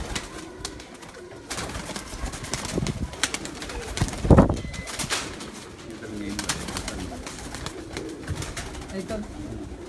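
Breeder pigeons coo on a rooftop, a steady murmur of soft throaty calls with a brief louder burst near the middle and occasional wing flutter, while people talk in the background.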